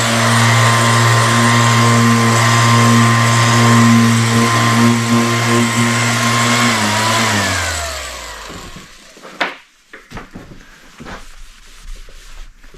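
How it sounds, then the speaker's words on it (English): An orbital sander runs on the plastic fuel tank of a 1983 Yamaha IT 175 dirt bike, a steady loud motor whine with a rasping rub. It winds down after about seven seconds, followed by scattered knocks and handling noises. "But I'm going to hit the whole thing with the orbital sander one more time."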